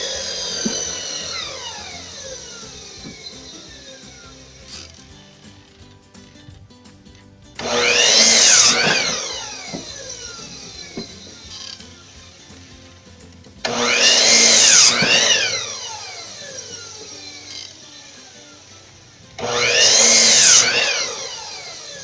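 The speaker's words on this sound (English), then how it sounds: "I'm going to cut the 44 inch one first to make the 2x4 more" A saw cutting a 2x4 wooden board in three loud bursts of about two seconds each, each whining up and falling off, separated by quieter stretches of low background noise.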